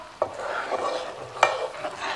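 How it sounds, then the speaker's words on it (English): A spoon stirs a bubbling honey and saffron caramel candy mixture over high heat, with soft scraping strokes and a couple of sharper clinks against the pot under a steady sizzle. "my mixture is in the high heat. You see all this bubbly stuff in it. I'm gonna mix it a little"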